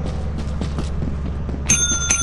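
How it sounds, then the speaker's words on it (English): A bell rings in the video game Lethal Company, a bright metallic ding that comes in near the end over a low background hum and soft scattered clatter. "Ring the bell!"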